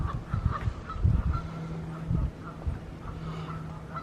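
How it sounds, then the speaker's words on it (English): Geese honking near a little island on a lake, several short calls scattered irregularly at moderate distance over a soft ambient background. "Oh, here comes some more geese out of the little island."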